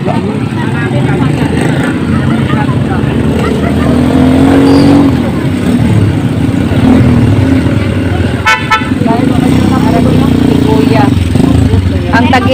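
A loud motorcycle engine drones steadily with traffic noise and a horn toot, voices talking faintly in the background.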